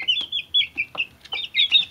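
Three-week-old chicks in a coop give a busy run of high, repeated peeping clucks and chirps, close and fairly loud, overlapping in quick bursts with no talk.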